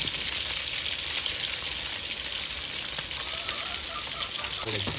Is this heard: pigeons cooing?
no